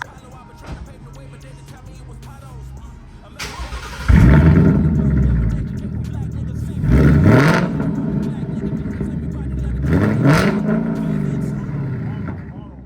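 A supercharged 2018 Roush car engine idles, then is revved hard three times in succession, each surge a loud roar that swells and drops back to a rumbling idle, close by.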